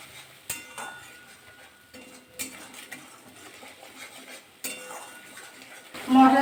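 Spices with salt, turmeric and sugar being stir-fried in a pan for a vegetarian dom patol, with distinct clinks and scrapes of a metal utensil against the pan over a faint, low sizzle.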